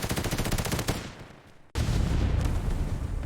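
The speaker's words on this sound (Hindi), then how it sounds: "उसने आखिरी 3 गोलियां चलाई।" Rapid gunfire in a narrated 1971 war story, dense bursts of shots alone and loud, dropping into a brief hush before a sudden heavy blast and more sustained firing.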